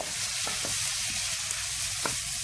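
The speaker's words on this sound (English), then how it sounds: "we're gonna stir fry it until the pork reach a little bit of or it reaches the golden brown color" Pork pieces stir-fried for pinakbet, a steady loud sizzle of hot oil filling the whole clip with a few sharp spatula scrapes and pops on top.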